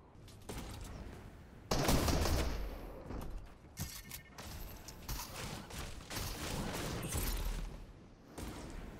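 Rapid bursts of gunfire fill a Fortnite match, loud and dense with sustained automatic volleys and overlapping shots, with no speech.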